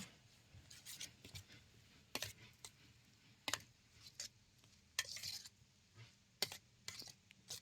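A ladle stirs spice paste of chutney, cumin powder, coriander powder and dried fenugreek leaves in a pot over a wood-fired stove, giving soft scraping strokes and occasional sharper clinks in an irregular rhythm, close and quiet with no talk.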